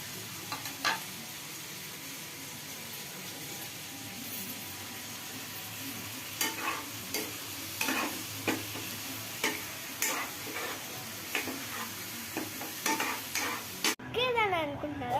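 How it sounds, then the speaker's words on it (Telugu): Tomatoes stirred in a frying pan over a faint background sizzle, with a series of sharp spatula taps and scrapes against the pan at an irregular rhythm. "బాగా మిక్స్ చేసుకోవాలి ఆ టమాటాని."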